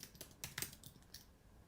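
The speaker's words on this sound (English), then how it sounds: "let me type Camper" Keys clatter on a computer keyboard in a quick, soft run of close-up clicks, clustered in short bursts with no voices.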